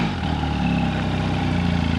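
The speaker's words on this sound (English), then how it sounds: "The exhaust note on this bike is really, really nice." A Benelli TRK 502X motorcycle burbles at a steady idle, a deep throbbing twin-cylinder exhaust note, close and continuous with no voices over it.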